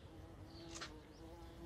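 Wasp-mimicking insect buzzing briefly nearby, a short whining drone rising over quiet outdoor background with a faint steady hum.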